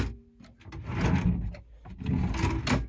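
Solid wooden drawers in an Integral Esterel motorhome on a Mercedes chassis slide open and shut a few times in a quick sequence, with soft thumps and rolling scrapes close by.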